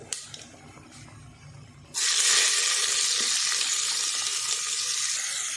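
Onions tipped into a hot pan for home-made biryani, a few quiet clinks before a sudden loud, steady sizzle bursts up close and continues hissing, no talking.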